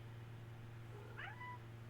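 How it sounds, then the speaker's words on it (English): A house cat gives a single short, faint meow over a steady low indoor hum, with no talking around it. "My cat's very vocal."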